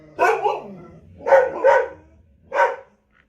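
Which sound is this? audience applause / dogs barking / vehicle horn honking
dogs barking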